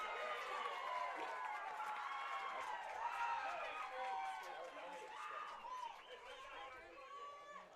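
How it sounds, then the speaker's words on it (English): A large crowd roars and chatters steadily at a little league baseball tournament championship game, a broad wash of many voices with swells of cheering throughout. "Good crowd out here tonight."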